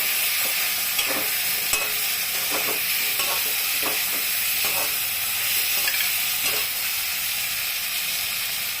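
Potatoes fry in hot oil in a pan while being stirred, a steady loud sizzle and hiss broken by repeated scraping, rustling strokes of the spoon; no talking.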